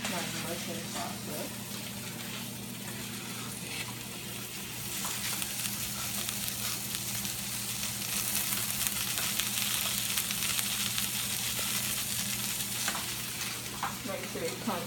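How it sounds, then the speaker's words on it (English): Spinach sizzles and fries in a pan alongside mushroom pasta while a spoon stirs, giving a continuous soft crackle with occasional scraping, quiet and close, with faint talk in the background. "But now the spinach is cooking down. Get my spoon and stir up my mushroom pasta."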